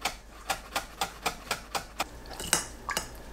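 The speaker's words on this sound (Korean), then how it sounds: "깻잎 10장을 채 썰어 준비합니다." A knife julienning perilla leaves on a cutting board, giving evenly spaced, crisp taps about four per second, close and moderately loud, the rhythm loosening toward the end, with no talking.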